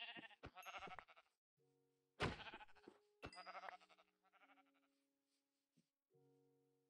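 Several sheep bleat in Minecraft, a few loud wavering bleats close by with pauses between, plus quieter tonal game sounds in the gaps.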